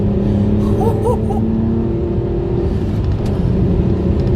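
An MG ZT 190 accelerates hard past 2500 RPM, its engine holding a loud steady drone heard from inside the car, with no speech.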